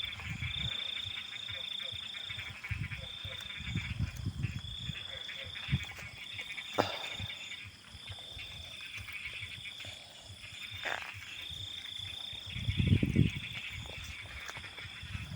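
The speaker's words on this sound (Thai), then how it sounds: "เสียงกบก็อบอยู่" Frogs croak loudly and repeatedly in a flooded rice paddy at night, with deep throaty pulses under a constant high insect drone and occasional sharp nearby splashes or knocks.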